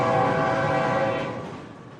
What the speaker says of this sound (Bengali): দিনের শেষে ট্রেন এসে থামলো স্টেশনে।